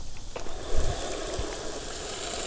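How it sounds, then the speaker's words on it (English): Water gushes steadily from a tap or hose during a fill, a continuous rushing stream nearby with a couple of brief knocks and clicks early on. "you're doing a little water fill"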